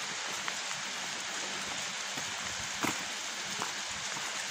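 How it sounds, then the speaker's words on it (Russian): Hail falling during a cold March spell in Pitsunda, Abkhazia, heard as a steady dense patter of small hard impacts with a few louder nearby strikes, continuous throughout. "Вот он белый град."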